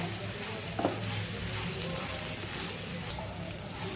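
Potato sticks frying with arrowroot powder are stirred in hot oil, giving a steady, close, continuous sizzle with faint stirring scrapes throughout.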